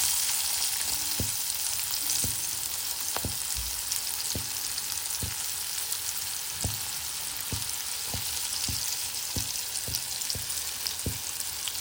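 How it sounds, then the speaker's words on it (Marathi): Chopped onion frying in well-heated oil in a pan, a loud steady sizzle throughout with occasional soft clicks and taps from stirring, close and without talk. "तेल तापलाय चांगला कडकडीत आता आपण कांदा टाकतो आहोत थोडा"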